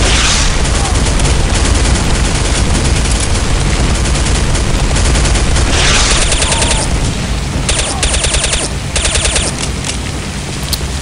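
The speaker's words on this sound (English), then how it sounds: "the gunshots are just too loud." Rapid, loud gunfire from the video game Counter-Strike: Condition Zero Deleted Scenes fills the scene, with dense overlapping bursts and booming shots continuing almost without pause.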